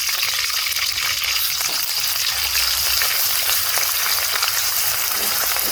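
Curry leaves and ginger garlic paste frying in hot oil in a pan for chicken fried rice, a loud, constant bright sizzle with no voices.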